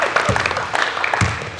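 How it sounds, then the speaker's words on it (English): Brief burst of applause from a small group after a basketball transition offence drill, scattered claps in a gym, moderately loud and short. "Give them a round of applause."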